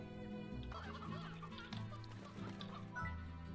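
Hens cluck and chatter continuously in the video game Slime Rancher over a busy electronic music bed, the clucking close and repetitive, blended with game sound effects.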